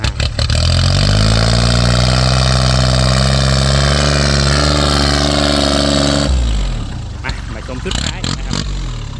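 A Kubota L3408 DI tractor engine labours loudly under heavy load, its pitch sagging steadily as it is pushed, then the drone drops away into lighter knocking and clatter, with a voice talking over it.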